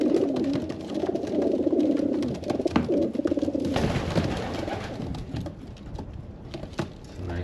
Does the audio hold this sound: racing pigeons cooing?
yes